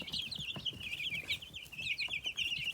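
Young meat chickens cluck and chatter inside a coop, a dense, continuous flock of high calls close by, with faint rustling underneath.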